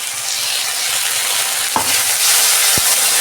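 Ginger, garlic and cumin paste frying in a pan with fried onion and tomato, a loud continuous sizzle with a couple of sharp stirring clanks from a spoon against the pan, no voices.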